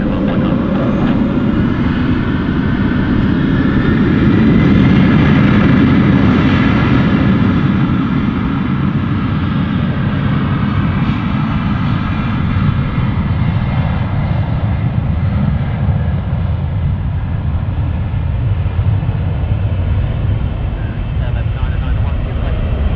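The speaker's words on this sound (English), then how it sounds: "this is an Embraer. So this is a 190 operated by BA City Flyer." Embraer 190 jet of BA CityFlyer at London City Airport, a loud rumbling engine roar with shifting tonal whine that rises and then eases, while someone talks over it much of the time.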